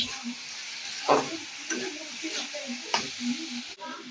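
Pointed gourd and prawn curry frying in a pan, a close sizzling hiss broken by several scraping stirs of a spatula, with faint background voice.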